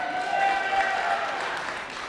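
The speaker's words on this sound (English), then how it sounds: "Let's give them a big round of applause." Audience applause at a live youth forum show in San Antonio, a moderate crowd clapping steadily, somewhat distant, with a faint tonal hum running beneath and fading slightly at the end.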